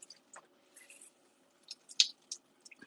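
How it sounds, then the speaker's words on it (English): Grated zucchini wrapped in a cloth being squeezed to wring out its water, giving soft wet squishing and faint dripping crackles in short bursts, close and quiet, no talking. "So that all the extra water just squeezes out."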